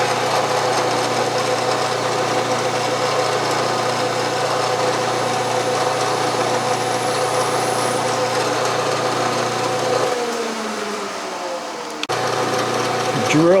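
A milling machine center drilling a Stuart steam engine part, giving a steady mechanical whir and hum that runs throughout, drops briefly as the feed changes, then resumes with a rising whine at the close.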